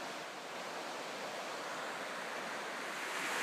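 The Elwha River rushes over cobbly rocks, a steady broadband wash of flowing water that grows slightly louder toward the end.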